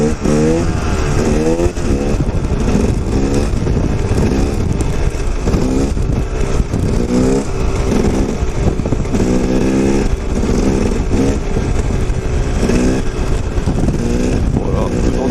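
A KTM 250 EXC dirt bike ridden hard, its engine loud and close, rising and falling through rapid revving climbs as it accelerates and shifts, filling the whole stretch without pause.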